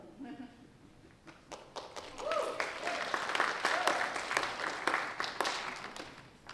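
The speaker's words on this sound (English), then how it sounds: "let's give a round of applause quietly as not startle him" Soft, restrained applause from a high school Broadway show audience begins as sparse individual claps, then builds into fuller, gentle clapping that keeps going, with a brief voice at the start.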